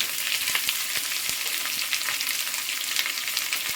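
Onions fry with curry leaves in a hot pan, a loud, dense sizzle with scattered crackles and pops as they cook, close and steady with no voices.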